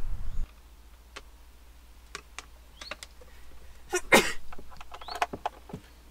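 A single short sneeze comes from someone inside a camper van. It stands out amid soft scattered clicks and taps, and no one speaks.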